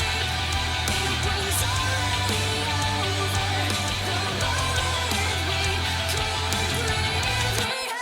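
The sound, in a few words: metal song chorus mix with MIDI melody and harmony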